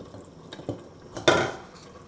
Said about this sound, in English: Add more water to simmer the vegetables.